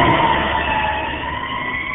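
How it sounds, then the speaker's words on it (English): A fire truck siren sounds steadily in the background for about two seconds, a sustained wailing tone with a louder burst at the very end, behind a game or video soundtrack. "That's a fire truck!"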